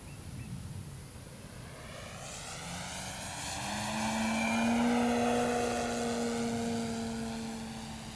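An FMS 1400mm Pitts V2 RC aerobatic biplane flies overhead, its electric propeller whine sweeping in pitch as it swells closer and louder, then fades slightly as it passes, over steady outdoor wind noise.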